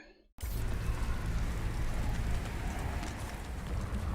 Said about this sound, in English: Hailing on me.